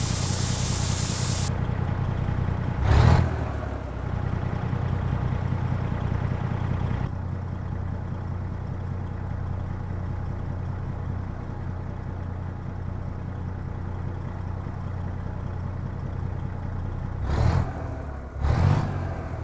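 A Mack Cruiseliner truck with a Cat 3406B diesel engine idles with a deep, steady rumble, broken by a few short, sharp revving bursts and a brief hiss of air at the start, heard close with no talk.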